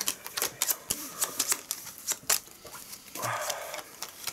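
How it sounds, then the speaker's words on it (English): Shuffling a deck of game cards for a fantasy card game, a quick series of crisp riffling snaps and slaps in a steady rhythm, close up, ending with a softer sliding sound. "shuffle, and pull one card."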